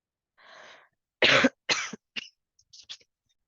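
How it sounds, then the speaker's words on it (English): A few sharp coughs in a row, close and fairly loud, with short pauses between them and no talking. "Sorry, still coughing."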